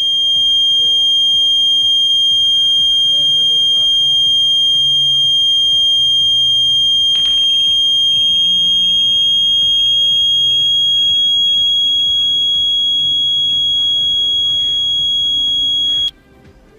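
Electronic buzzer module on a 3 V supply sounds a loud, steady high-pitched tone that runs continuously for about sixteen seconds and then cuts off, with faint handling clicks underneath.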